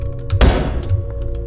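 Gunshot in a horror video game set in a city: one sharp, loud broadband crack with a lingering decaying tail, heard over a steady low game ambience.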